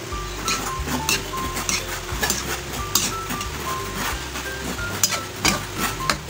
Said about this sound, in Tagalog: Tapos halo-haloin natin